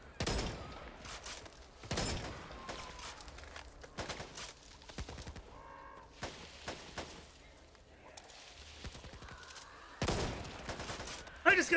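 A light machine gun fires in bursts in the co-op zombie shooter Back 4 Blood, loud rattling volleys separated by pauses, with scattered gameplay clatter between them and a final burst at the end.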